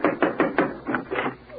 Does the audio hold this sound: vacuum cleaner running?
no